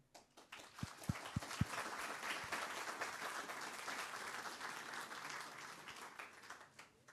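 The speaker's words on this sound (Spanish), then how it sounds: "demos un fuerte aplauso" Audience applause at a formal legal workshop on electoral court rulings: a few sharp isolated claps at first, then steady, moderately loud clapping from a seated crowd that slowly fades.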